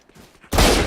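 A swarm grenade detonates during a competitive Valorant match, a sudden loud burst of rapid popping blasts that erupts after a quiet moment and holds at full volume to the end.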